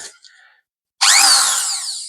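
A mains-powered electric drill, run from a portable solar-charged battery power unit, gives a short burst near the start, falls silent, then spins up loudly and whines steadily at close range.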